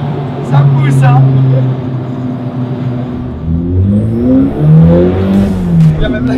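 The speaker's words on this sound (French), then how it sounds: "Première accélération dans la main" A Dallara Stradale sports car accelerating hard on track, engine note climbing through rising revs with a gear change, loud and close from inside the car, with excited voices over it.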